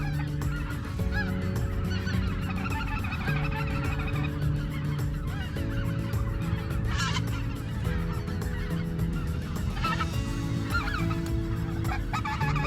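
Speckle-bellied geese honk continuously through a hunt in Arkansas, a dense flock chorus of overlapping calls at steady loudness, with no talk.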